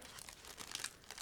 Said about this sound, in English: So what I'm doing right now is cutting through the plastic bag